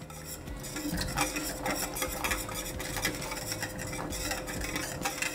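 A whisk scrapes and stirs a creamy sauce in a pan over low heat, producing quiet, rhythmic metallic clinks and swishes that repeat steadily throughout.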